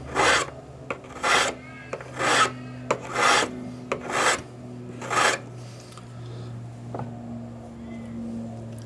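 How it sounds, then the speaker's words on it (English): A hand file rasps along a metal bangle to flatten it and take out hammer marks. Six or seven rhythmic, close strokes with short gaps between them fade into quiet hum at the end. "We're just going to file flat. Follow the curve, and we're just taking the hammer marks out."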